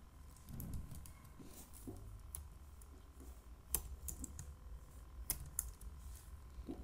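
Quiet, close keyboard typing while code is entered on a computer: irregular runs of soft key taps with a few sharper clicks, no speech.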